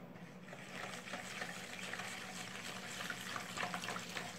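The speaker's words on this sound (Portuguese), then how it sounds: "Agora nós vamos colocar 250 ml de água sanitária." Liquid pours steadily from a bottle, a measured 250 ml of bleach being added for bathroom cleaning, a continuous close splashing wash with no talk.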